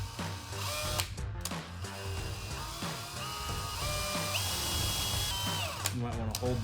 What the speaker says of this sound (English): I'm gonna be using a smaller drill bit to start